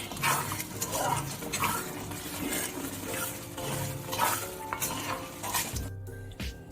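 Homemade lemon pickle sizzles in a pan as it is stirred after vinegar is added, a steady close frying hiss with scraping of a spoon against the pot throughout, no talking.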